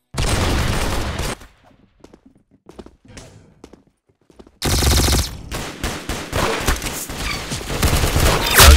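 Roblox Arsenal gunfire erupts in loud, dense automatic bursts, breaks off into a stretch of sparse scattered shots and clicks, then resumes as heavy sustained firing to the end.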